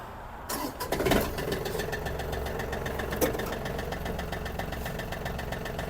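A Yanmar AF-26 mini tractor's small engine turns over and catches at the start, then settles into a steady, close, rhythmic idle that runs on without a break.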